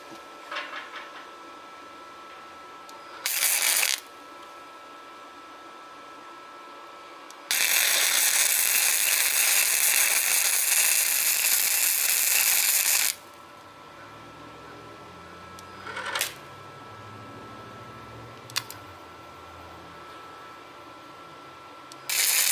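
A YESWELDER Flux135 flux-core welder works on a rental trailer project, making a harsh, crackling hiss that lasts about five seconds, with a few shorter sputtering bursts before and after.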